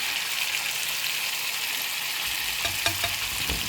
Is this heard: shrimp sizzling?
yes